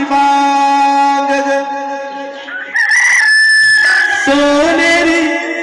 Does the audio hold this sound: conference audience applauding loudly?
no